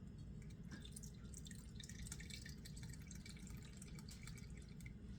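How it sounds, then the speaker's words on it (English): Freshly squeezed lemon juice strained to remove the seeds, quiet rapid dripping and trickling of liquid, faint and steady with no talking. "I'm straining it right now to get the seeds out of it"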